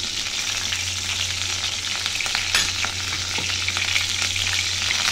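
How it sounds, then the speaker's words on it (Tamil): Dried turkey berries frying in hot oil in a pan, a steady close sizzle and crackle with faint stirring scrapes, no voices. "இப்போ கொஞ்சம் வத்தல் போட்டுக்கலாம்."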